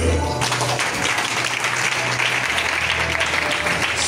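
A church congregation claps throughout, a dense, continuous burst of applause filling the hall with a low hum underneath. No voices stand out.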